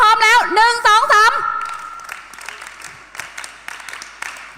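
A group of students clapping together to signal readiness at a youth safe-driving event, a burst of rhythmic claps in the first second and a half after a voice, then sparse scattered claps and room noise.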